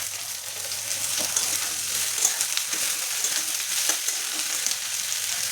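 Sliced onions and cabbage frying in a pan on a gas stove, a steady close hiss and sizzle with faint stirring scrapes, no talk.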